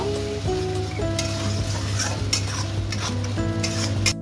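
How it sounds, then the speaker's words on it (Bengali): Ground spice paste with green chilli fries in a pan for a mutton curry, a continuous close sizzle under repeated scraping strokes of a spoon and a few clinks against the pan. "মশলাটা ভালো করে কষে নেব।"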